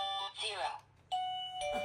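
A doorbell rings twice with bright sustained chime tones, separated by a short pause, with a voice speaking briefly before the first chime.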